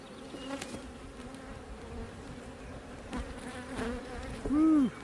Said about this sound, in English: Woo, lots of bees.